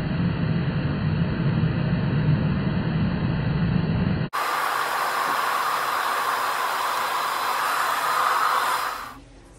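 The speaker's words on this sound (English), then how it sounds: "we're doing the round brush blow dry" Hair dryer running during a round brush blow dry at a cosmetology school, a loud continuous whooshing roar that switches to a higher airflow setting partway through and then cuts off near the end.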